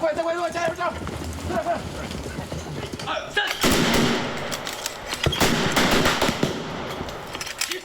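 Rapid bursts of gunfire and booming explosions crackle over a busy Chinese film set, with voices heard in the background amid the sustained barrage.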